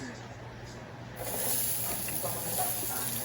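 Sliced onion dropped into a hot pan starts a sudden, steady sizzle and hiss that rises partway through and holds, close and moderately loud, over a low background hum.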